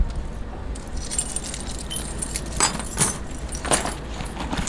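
Keys jangle close by, with loose bunches of metal keys shaken and rattled in several bright bursts, the loudest near the middle and end, over a low background hum.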